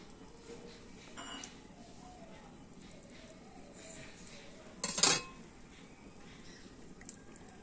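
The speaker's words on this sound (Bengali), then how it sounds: "একটা ছুরি নিয়েছি, আর এইভাবে আমি মাঝ বরাবর কেটে নেব।" A knife slices down through the middle of an eggless, flourless, oil-free and sugarless cake studded with tutti-frutti, giving a soft cut with a brief, louder clink of metal on a plate partway through, over quiet room noise.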